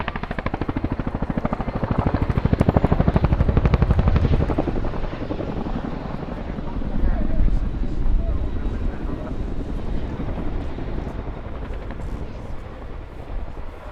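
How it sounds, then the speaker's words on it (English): A Royal Air Force Chinook twin-rotor helicopter performing a flying display at the RIAT 2023 airshow: a loud, continuous, heavy rotor chop that swells early and then eases slightly while staying strong throughout. "I give you the Royal Air Force Chinook display team"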